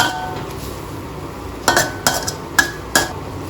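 Scallops being stir-fried in a pan over high heat with seasoning powder and ground pepper: a soft background sizzle broken by several sharp, close metallic clinks and scrapes of a utensil against the pan.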